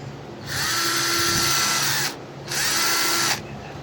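A small battery-powered drill runs in two close bursts, a longer spin followed by a shorter one after a brief pause, with a steady high whine and no talking.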